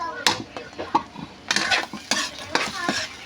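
Food stirred in a cooking pan for a bangus (milkfish) dish, a spatula scraping and knocking in quick irregular strokes over a light sizzle, close and fairly loud.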